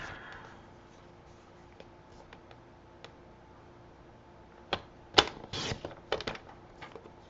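Cardstock edge trimmed on a paper trimmer, a few quiet ticks followed by a cluster of sharp, close slicing and clicking bursts near the end.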